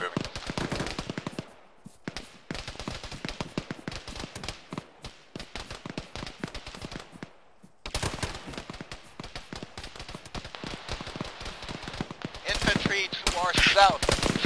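Sustained squad machine gun fire on a bunker in the Arma video game, dense rapid rattling bursts running almost continuously with brief gaps, fairly loud and heavier toward the end.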